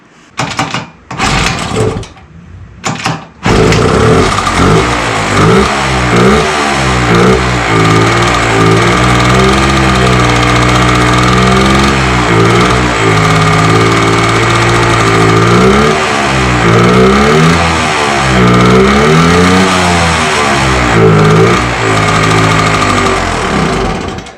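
A Puch Magnum X moped's small engine sputters to life after a few false starts, then runs loudly and continuously, its pitch rising and falling with repeated revving.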